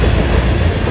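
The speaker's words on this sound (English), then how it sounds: "This is train 98Z, an unusual symbol on the Harrisburg line." A Norfolk Southern freight train hauling ballast on the Harrisburg line in eastern Pennsylvania rumbles past up close, a loud, continuous roar of wheels and rail noise.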